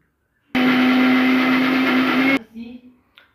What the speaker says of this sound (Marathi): आता हे मिक्सरला लावते मी